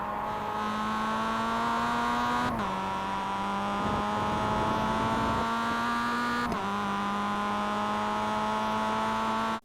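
Mazda MX-5 race car engine in iRacing at Oschersleben, droning steadily and loud at high revs as the throttle builds on a corner exit, with two brief pitch dips as gears change, no talk.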